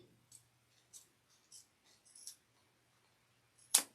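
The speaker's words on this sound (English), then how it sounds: "And I'm just going to cut down zipper tape." Scissors cutting zipper tape make a series of faint, crisp snips spaced through a quiet room, ending with one louder, sharper cut.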